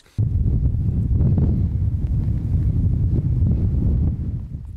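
Strong wind buffets the microphone beside a lake, a steady low roar of gusts over choppy water that holds loud and constant for several seconds before easing slightly at the end.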